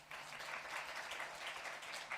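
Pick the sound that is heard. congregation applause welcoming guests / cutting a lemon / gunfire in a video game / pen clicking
congregation applause welcoming guests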